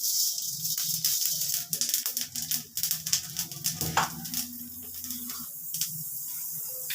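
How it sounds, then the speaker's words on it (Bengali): Black cumin seeds sizzle in hot oil as tempering for tomato masoor dal. A soft, steady hiss is broken by frequent small crackles and pops close by, and no one speaks. "আমি কালো জিরা ফোড়ন দিয়ে করছি।"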